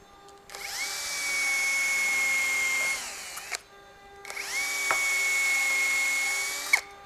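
A power drill boring into thick wood whines loudly in two long bursts, each winding up, holding a steady high-pitched spin, then stopping, with a short pause between.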